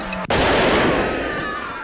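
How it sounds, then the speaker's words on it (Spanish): A single sharp gunshot during a hostage-rescue assault, cracking loudly after a brief quieter moment and followed by a long, booming reverberant decay with a faint lingering ring. "Un disparo hace que los rehenes se tiren al suelo"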